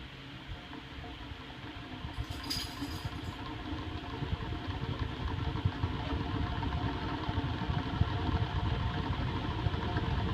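A 36 inch Evergo ceiling fan with a cast iron motor runs on high, giving a steady low whirring hum and an even rush of air throughout, with a brief faint metallic tick near the start.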